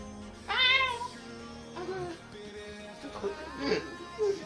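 A person imitates a cat with a few drawn-out meows and mewing sounds, close and fairly loud, mixed with some casual voice noise.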